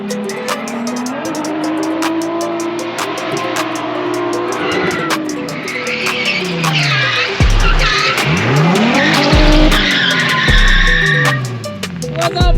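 Nissan 350Z drift car with its engine bouncing on the rev limiter, a loud, sustained buzzing roar with sweeping pitch changes and tire squeal mixed in, close and continuous with no talk.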